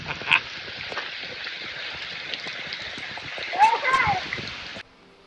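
Rain pours down in Cubbon Park as a steady, moderately loud hiss and patter, with brief bumps of handling noise and a short burst of voices near the end before it cuts off.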